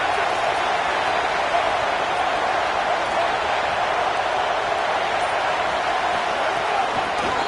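A football stadium crowd sends up a dense, constant roar of noise that stays loud and even throughout, with no single voice standing out.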